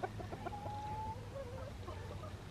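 A broody hen sitting on her eggs gives soft, repeated clucks and a short drawn-out call, faint and alone over a low steady hum.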